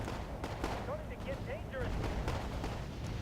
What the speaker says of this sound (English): Heavy hogs here shooting their grenades.